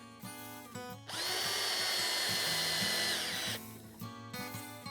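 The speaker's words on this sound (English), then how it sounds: "I'm going to attach these together again using this pocket hole system" A power drill drives pocket hole screws into a 2-inch poplar face frame, giving one sustained whirring burst of roughly two and a half seconds between quieter clicks and knocks of handling.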